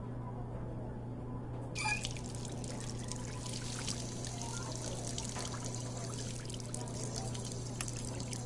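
Water poured into a kettle in a VR game, a steady trickling pour starting about two seconds in and continuing to the end over a constant low hum.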